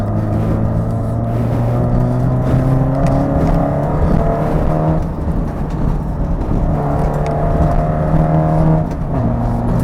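Race car engine accelerating around the DCTC Driving Range track in its PDE layout, loud and close, with rising revs through the gears, brief dips at each shift and a steady climbing drone between.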